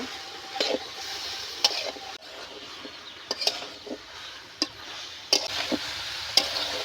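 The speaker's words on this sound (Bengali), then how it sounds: "মাছটা শাড়ি রেখেছিলাম এবার আমি দিয়ে দেবো যে এইভাবে নেড়ে চেড়ে আমি কষি নেব" Fish with spices stir-fried in a pan, a soft, steady sizzle broken by sharp, irregular scrapes and knocks of a spatula against the pan as the pieces are turned, close by and quiet.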